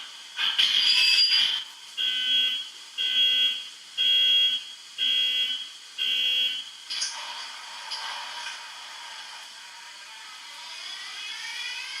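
A model train on a Rocrail-controlled layout starts up with its sound effects: a burst of hiss, then a series of regular electronic beeping tones, followed by a steady whirring that fades gradually.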